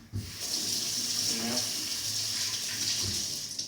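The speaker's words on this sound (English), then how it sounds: "I'm going to wash it in water first." Food being rinsed under a running kitchen tap before being cut up for baked nachos with cheese, a steady hissing stream of water splashing into the sink, close and continuous, with a brief muffled voice partway through.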